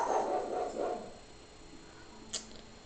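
A pug barks in the cozy building game Tiny Glade, giving a few short yaps early on that fade to a quiet background with one small chirp near the end.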